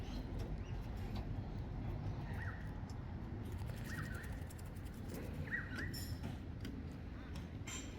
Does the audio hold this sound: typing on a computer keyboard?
no